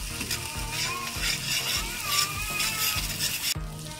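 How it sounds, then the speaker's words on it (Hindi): Garlic-ginger paste and green chillies frying in a pan, a continuous close sizzle and crackle under a repeating low rhythmic hum, ending with a sudden cut. "अब लहसुन अदरक का पेस्ट मैंने डाला है, सब्ज मिर्चें भी इसके अंदर हैं, तो इसको हम 1 मिनट के लिए फ्राई कर रहे हैं"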